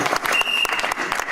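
Church congregation applauding during a worship service, a short burst of steady, full-room clapping with a little crowd noise.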